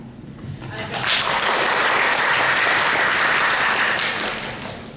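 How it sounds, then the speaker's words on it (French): An audience at a university gathering in a hall bursts into applause, rising quickly to a full, dense clapping that holds steadily for a few seconds before tapering off. "applaudissez-la encore une fois pour lui donner du courage."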